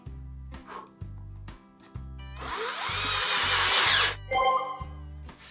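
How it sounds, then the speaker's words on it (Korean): Power drill boring a small hole into an e-bike frame, with a steady high whine lasting about a second and a half, set between short bursts of low mechanical humming from the tool, close and loud. "먼저 작은 구멍을 뚫어줄게요"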